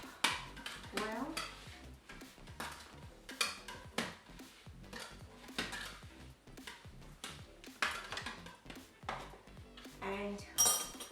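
A spoon stirs and scrapes a spice mixture with paprika or chili powder around a bowl in quick repeated strokes with light clinks, close by and with no talking.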